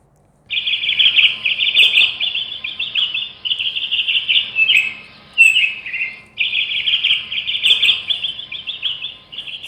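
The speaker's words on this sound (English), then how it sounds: "So let's start with the sound of the bird." A bird chirps in long, bright, rapid trills, close and clear, with brief pauses between phrases against a quiet background.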